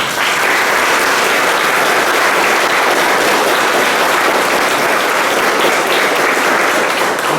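A church congregation gives a loud, steady round of applause welcoming the visiting Pescaria Brava community carrying an image of Saint Peter, a dense wash of clapping sustained evenly throughout.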